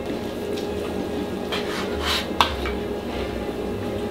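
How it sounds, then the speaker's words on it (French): A knife slicing through a cooked roast after its string is removed, a soft faint scraping over steady background hiss with one sharp metallic click midway. "Couteau coupe."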